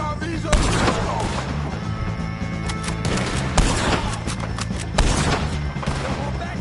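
Gunfire in Red Dead Redemption 2 rings out in a dense, chaotic shootout. Loud shots and booming blasts repeat over a rumbling din, with heavier bursts arriving every couple of seconds.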